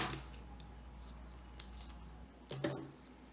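Scissors snip crochet yarn after a sewing knot is tied, giving a few brief crisp cuts near the start, middle and end over a quiet background.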